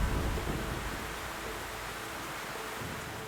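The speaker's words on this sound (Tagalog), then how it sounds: "bumuhos ang malakas na ulan." Heavy rain pours down steadily at a gold mining site, a dense, unbroken hiss and roar that stays loud and even throughout.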